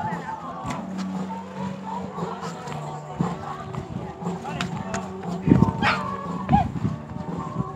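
Dogs barking around an outdoor dog swimming pool where dogs run loose, with scattered barks amid splashing and general outdoor commotion, heard under people talking.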